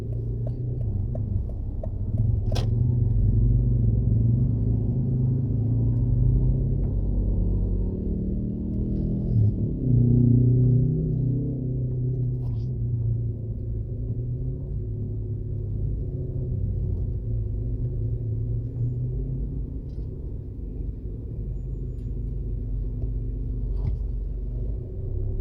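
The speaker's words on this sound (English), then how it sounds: "we're going to drive back through the plaza now for one last tour" Car interior rumble while driving slowly through Fairview Plaza, a shopping plaza in Montego Bay, Jamaica: a steady low engine and road drone throughout, with a brief bump or thud near the middle and no talk.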